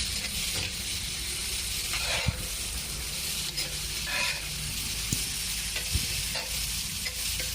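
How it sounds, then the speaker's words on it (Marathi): Vegetables for chole masala with tomato sauce frying on high heat, a steady sizzling hiss with occasional stirring scrapes and clicks. No talking is heard. "आता मोठा गॅस करून 2-3 मिनिटांसाठी ही भाजी परतून घ्यायची आहे।"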